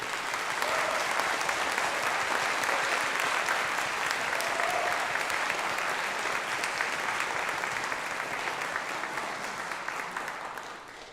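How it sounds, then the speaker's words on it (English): Convention audience in a main hall at a fan event applauding arriving panel guests, a dense, steady wash of clapping that holds for about ten seconds and then begins to taper at the end. "So please give a really nice big applause to Jennifer Weiss and Luisa Witzorek"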